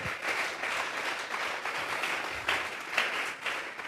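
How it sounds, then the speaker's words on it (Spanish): A church congregation claps during a sermon, a moderate, even wash of hand claps lasting a few seconds without anyone speaking over it. "Regálele otra ofrenda de palmas al Dios de la gloria"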